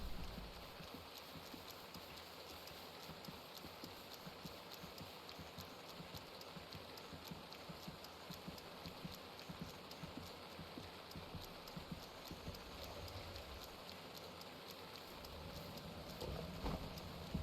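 Rain falls in the video game Breath of the Wild, a steady soft hiss of drops that carries on evenly for the whole stretch with no voices over it.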